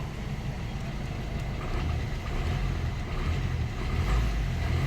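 A Maruti car's engine idles with no key present, a steady low rumble that holds close and even for the whole stretch, with no talking.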